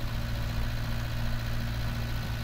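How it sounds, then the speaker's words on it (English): A tractor engine labours in a farming video game, giving a loud, steady, low droning rumble with a gritty vibrating edge that runs unbroken throughout, with no talking. "My tractor's struggling. Really struggling."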